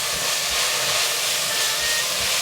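Red bell pepper and king oyster mushrooms are stir-fried in hot oil, giving a loud, steady, dense sizzle that hisses on without a break and no voices.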